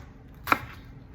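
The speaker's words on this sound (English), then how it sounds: "start out by chopping one large onion" A single knife stroke chopping through a large onion, one short crisp impact near the middle of an otherwise quiet stretch.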